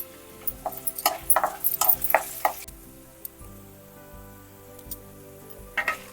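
Chana dal and urad dal roasting in a pan on low heat, with irregular light crackles and ticks early on, thinning to a quiet hum with a few scattered pops.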